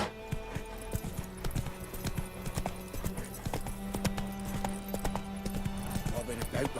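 Roach's hooves clop steadily in The Witcher 3 as the horse is ridden along a road, a continuous rhythmic clatter of hoofbeats under game music and spoken dialogue.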